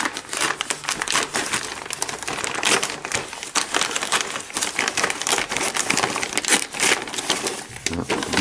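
Plastic packaging crinkles and crackles up close as parts of a 1/8 Eaglemoss Ecto-1 model kit are unwrapped, in dense irregular bursts of rustling and tearing.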